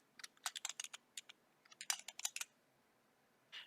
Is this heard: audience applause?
no